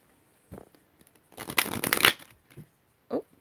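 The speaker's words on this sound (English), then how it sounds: "Oh, they shuffle quite nicely." Quick riffling bursts of a card deck being shuffled, a few short flicks then one longer cascading riffle, close and fairly quiet.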